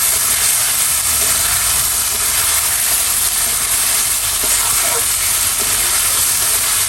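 Eggs frying in a pan, a loud, dense, unbroken hiss that stays close and even from start to finish, with no voices over it.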